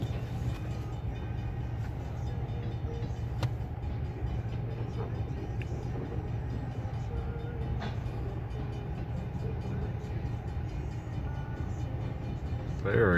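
A long freight train with a caboose rolls steadily past, a continuous low rumble of wheels and wagons with occasional faint clanks, at a moderate distance.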